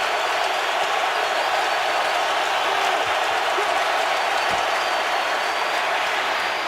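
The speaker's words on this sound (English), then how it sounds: "Now the crowd's into it on a 3rd and 10." Football stadium crowd roaring steadily on a third down during an NFL game between the Seahawks and Colts, a loud, dense, continuous wall of cheering with no break.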